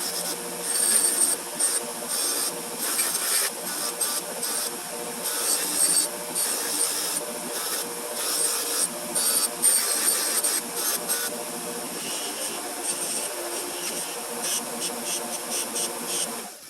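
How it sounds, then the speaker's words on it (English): A wire wheel grinds steadily against a Stanley Defiance 1222½ combination square being restored, a continuous harsh scratchy whir with pulsing surges, close and loud throughout with no talk. "I could probably get away with just hitting it with the wire wheel"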